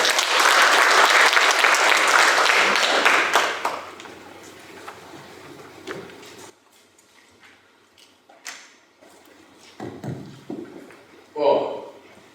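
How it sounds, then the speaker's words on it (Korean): An indoor audience gives loud, sustained applause welcoming a lecturer to a special lecture. The clapping fades after a few seconds into scattered claps, shuffling and a few voices. "뜨거운 박수로 환영해 주시기 바랍니다"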